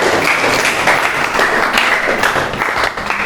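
A classroom of students applauds after a group presentation, steady dense clapping filling the room loudly for several seconds without a break.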